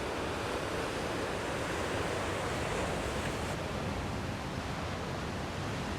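Ocean waves wash and splash steadily against a rocky seascape shore, a continuous broad rushing surf with wind noise, moderately quiet and with no voices.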